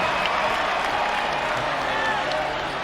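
Home crowd at an NCAA basketball game between Oregon and Arizona roaring and cheering in the arena, a dense, sustained wash of noise with a commentator talking over it.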